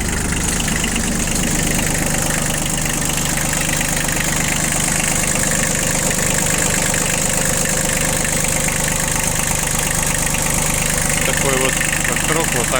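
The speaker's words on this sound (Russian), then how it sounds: "Такой вот трактор вот так работает." A Kubota Bulltra tractor engine idles steadily at close range, a constant low rumble with a hum, while a voice speaks over it.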